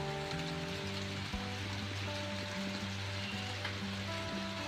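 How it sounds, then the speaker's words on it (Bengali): Light rain of the first shower after hot weather falls over a rooftop garden, a soft, steady patter spread evenly throughout, with faint sustained tones running beneath it. "বলতে বলতে বৃষ্টি শুরু হয়ে গেছে অল্প অল্প বৃষ্টি হচ্ছে"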